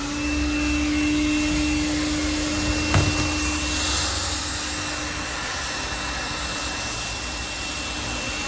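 A Makita DCL180 18V cordless vacuum cleaner with a 5.0Ah battery runs steadily, its broadband motor whine holding constant and close throughout, with one brief bump partway through and no talk.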